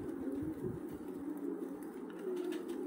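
Georgian fighting pigeons in a loft in Nakhalovka, Tbilisi, coo in low, soft, continuous rolling murmurs, close by and steady throughout.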